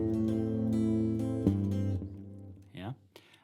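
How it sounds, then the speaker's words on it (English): Electric guitar with only the low band sent through a Fender Bassman amp, warm bassy sustained notes and chords up close, fading out into a brief spoken voice near the end. "What you're hearing now is only the Fender Bassman."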